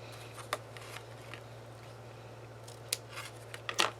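Scissors snip through a ribbon bow on a handmade daisy card, a few sharp close cuts scattered over a quiet stretch with a faint steady hum behind, ending in a quick cluster of clicks.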